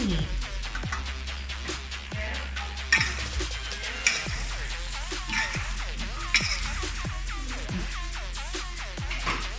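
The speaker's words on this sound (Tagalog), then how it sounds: "Okay guys, haluin lang ng haluin." Pinakbet vegetables are stirred in a cooking pot over a steady sizzle, with repeated scraping and clinking strokes of a utensil against the pot at a regular pace, close and continuous.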